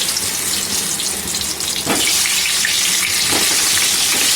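Lightly parboiled potatoes with salt and turmeric fry in oil in a kadai, a loud, continuous close-up sizzle with a couple of brief spattering bursts.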